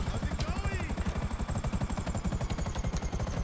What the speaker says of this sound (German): Also erstmal landen wir den Heli hier.